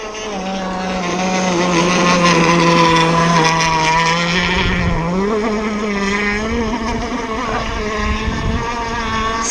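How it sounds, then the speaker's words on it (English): Engine of a Zippkits SLR Thunderboat radio-controlled boat: a loud, close, high buzzing drone that rises and then eases slightly in pitch as the boat slows, running continuously throughout. "Let that engine relax."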